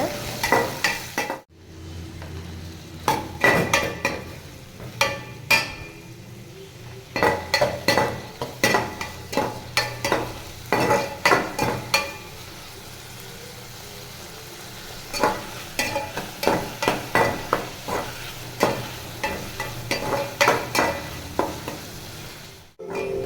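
Chicken being stirred with softened tomatoes in a pan for chicken kuzhambu, bursts of rapid spatula scraping and clatter against the pan over a low sizzle, with a brief pause near the start and quieter gaps between rounds.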